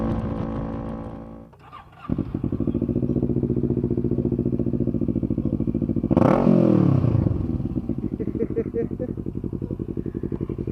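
A motorcycle with a loud exhaust idles in a steady, throbbing rumble close by, then revs in one sharp surge partway through before settling back to idle.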